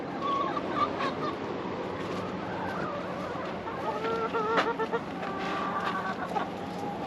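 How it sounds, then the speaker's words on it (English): Chickens cluck and squawk in a busy, steady chorus close by, with scattered louder calls rising over the flock and no talking. "got some very happy chickens"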